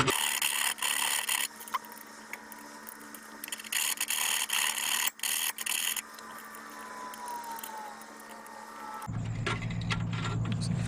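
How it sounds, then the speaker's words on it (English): Tin snips trim a Datsun 510 sheet-metal frame panel in a long stretch of scraping, rasping metal contact with sharp cutting bursts and a squeal, close and moderately loud, ending with a heavier clatter. "I use the tin snips and trim a little bit more off this corner."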